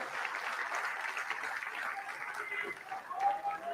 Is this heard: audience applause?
yes